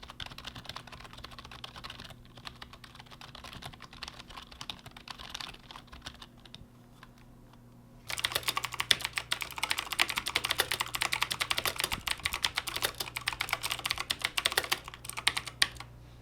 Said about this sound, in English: here's a quick sound test to see how typing on this sounds compared to my Razer Black Widow X Chroma with green switches